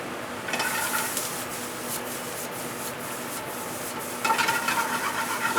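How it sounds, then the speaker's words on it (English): Baby spinach and pan-roasted wild mushrooms sautéing in a hot pan at a steakhouse kitchen, a steady broadband sizzle with scraping and stirring throughout, growing louder near the end. "Just give that a quick saute."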